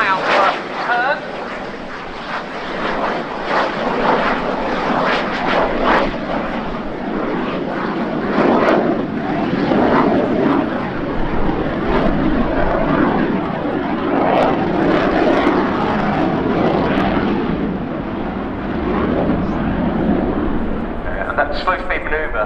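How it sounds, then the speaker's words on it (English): A Swedish Air Force SAAB JAS 39 Gripen flies a slow, high angle-of-attack turn at the RIAT 2017 air show, its jet engine a continuous, loud, rumbling roar that surges and fades as power changes, with commentary talk over it. "Slow speed manoeuvre in a fly-by-wire aircraft is simply a case of having full arm steer and then just modulating the power to maintain the height."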